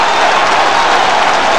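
A football crowd at the Valley applauds a Charlton goal, producing a loud, dense, sustained wash of clapping and cheering that holds without a break.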